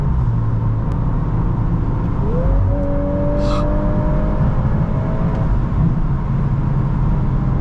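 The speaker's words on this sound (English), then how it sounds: "Beautiful upshifts. I mean, sorry, downshifts." A 2024 VW Golf R with a DSG dual-clutch gearbox downshifts while driving. A loud, steady engine and road drone fills the cabin, and a rising engine tone then holds level as the revs climb through a quick downshift. No one talks.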